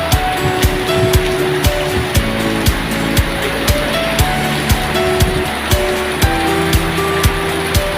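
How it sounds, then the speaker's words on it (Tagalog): Heavy rain pouring down on a street in a flood-prone area, a loud continuous wash of water with regular sharp ticks and knocks throughout, no talk. "Tatawid sana ako, napakalakas ng ulan"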